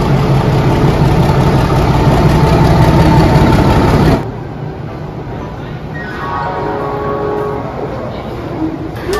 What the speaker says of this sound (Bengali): সন্ধ্যে 7:20 উপাসনা এক্সপ্রেস পৌঁছে গেল হাওড়া স্টেশনে।